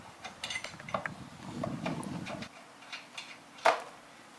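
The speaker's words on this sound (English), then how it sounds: "you're just going to want to fully remove your lug nuts." Lug nuts are loosened and removed from a raised car wheel by hand, giving faint metallic ratcheting clicks and scrapes with a sharp clink near the end.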